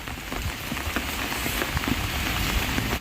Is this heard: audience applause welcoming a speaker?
no